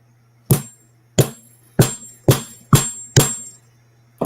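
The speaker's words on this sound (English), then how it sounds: "So I use that and hammer it in." Six sharp metallic hammer strikes setting a rivet into a faux leather bracelet, at a steady, unhurried pace, each ringing briefly before fading, close up with quiet pauses between.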